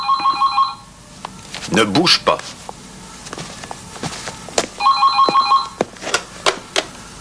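A telephone rings in two bursts of bright electronic trills, one at the start and another a few seconds later, with footsteps, room bustle and French conversation in between, set in a French television detective series.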